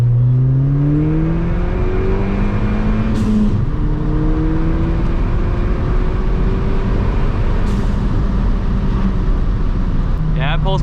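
A Ford Fiesta ST with an E30 tune pulls hard through second gear, engine note climbing steadily and loudly from inside the cabin, with a brief shift-like break partway through.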